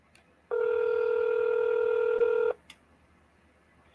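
A single telephone keypad tone sounds on a police department's automated phone menu, a steady two-second beep standing alone over faint line hiss.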